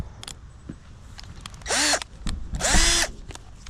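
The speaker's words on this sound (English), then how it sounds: "So let me go grab my drill." A cordless power drill, run off its battery, drills holes in two loud bursts of about half a second each. Brief clicks and handling noises come between the bursts.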